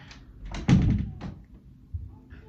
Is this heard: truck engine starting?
no